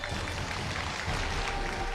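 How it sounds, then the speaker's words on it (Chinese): Studio audience applause on a Chinese relationship-mediation TV show, welcoming a remarrying couple onto the stage: a steady, dense wash of clapping that stays loud and even from start to finish. "让我们掌声请出这一对，来，掌声有请"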